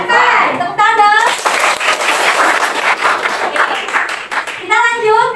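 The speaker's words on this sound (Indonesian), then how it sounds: "Tepuk tangan dong." Students in a classroom break into a burst of hand clapping, dense and lively for a few seconds, with voices speaking just before and after.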